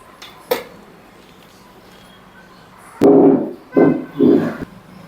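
Ragi flour being stirred into cooked rice in a pot for ragi sangati, with three heavy scraping, thudding strokes near the end after a single sharp knock early on, otherwise quiet.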